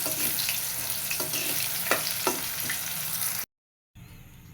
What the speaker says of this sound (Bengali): তেল দিয়ে এখন সবজিগুলো এক এক করে ভেজে উঠিয়ে নেব